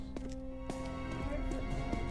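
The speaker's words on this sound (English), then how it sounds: "That's my footsteps." Footsteps in the Roblox horror game Cursed Grounds, a quick run of soft thudding steps, close and fairly quiet, over steady game background noise.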